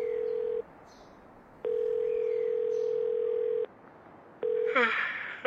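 A phone call's ringback tone repeats in long steady beeps with pauses between them, heard alone and fairly quiet, ending as a voice begins.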